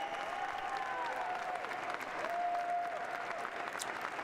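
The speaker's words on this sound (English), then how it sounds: "Rounding applause for the president-elect, needless to say." A crowd applauds the president-elect at the inauguration, steady sustained clapping with a faint tonal hum running beneath it.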